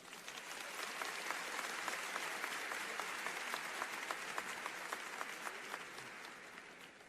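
A church congregation at a Catholic preaching event in Boston breaks into applause that swells in, holds as a full, even patter of many hands, then tapers off toward the end, heard from some distance.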